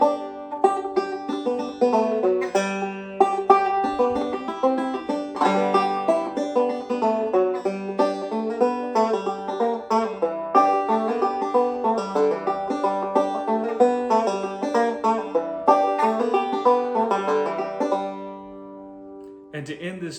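Banjo playing Cripple Creek slowly in Galax style, a dense steady stream of bright plucked notes and rolls for about eighteen seconds, close and loud, with no talking, ending in a brief pause and a few final notes.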